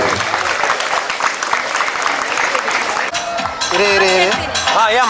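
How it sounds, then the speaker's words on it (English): Applause at an inter-school tournament's silver jubilee celebration, a loud, steady crowd clapping for about three seconds before it fades under cheering voices and an amplified announcer speaking over music. "So great round of applause for them."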